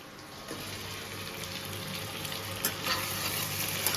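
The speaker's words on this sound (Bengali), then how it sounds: "পেঁয়াজটা ফ্রাই হচ্ছে আপাতত। এবার এর মধ্যে দিয়ে দেবো আলু।" Onions frying in a pan for a jackfruit curry, with potatoes about to go in: a steady close sizzle with light stirring scrapes and a few brief clinks, no talking.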